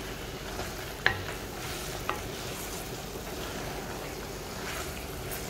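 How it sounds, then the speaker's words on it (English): A pot of chicken simmers in Nyonya-style spicy candlenut sauce with coconut, giving a soft continuous bubbling sizzle and two light clicks near the start, with no talking. "Let it simmer for a while"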